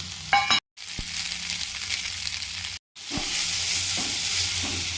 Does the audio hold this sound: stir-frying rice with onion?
yes